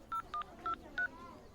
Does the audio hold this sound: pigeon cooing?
no